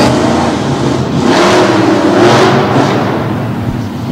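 A monster truck engine revs loudly during a freestyle run at a Harrisburg show, a sustained close mid-pitched roar with surging rises and dips and no talk over it.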